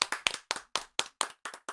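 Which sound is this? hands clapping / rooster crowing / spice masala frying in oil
hands clapping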